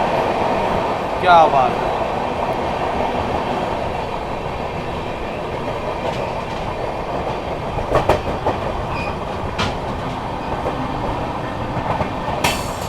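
The Vikramshila Express rushes through Tundla Junction at speed, with a continuous loud rumble and clatter of wheels on rails throughout and a few sharp clanks. Someone briefly speaks over it.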